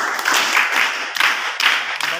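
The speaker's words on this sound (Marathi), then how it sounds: "सगळ्यांसाठी पुन्हा एकदा टाळ्या" Schoolchildren at a government Zilla Parishad school clap together in a group, a steady dense patter of hands lasting a couple of seconds without a break.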